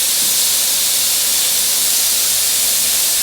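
Chicken shawarma pieces sizzle on a Starfrit Rock indoor grill, a loud, steady broadband hiss with no breaks, heard alone without any talk.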